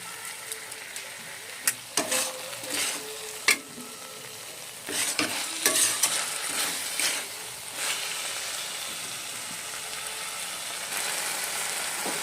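Water lily stems sizzle softly in a pan while a spatula scrapes and stirs in irregular strokes, the steady frying hiss continuing underneath.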